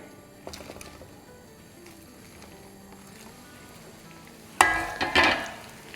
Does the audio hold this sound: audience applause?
no